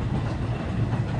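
Express train running on rails on a line toward Canterbury, a steady low rumble of wheels and carriages with a continuous dense roar throughout, close and even in level.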